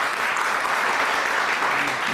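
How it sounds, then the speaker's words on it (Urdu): A studio audience claps steadily for arriving guests on a television talk show, a dense, even wash of applause held at a constant level from start to finish with no voices over it. "کے لیے بہت ساری تالیاں"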